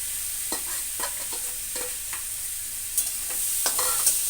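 Moong dal and masoor dal being stirred in a frying pan for bhuna khichuri, soft sizzling under repeated close scrapes and clinks of a spatula at an irregular rhythm, no talking.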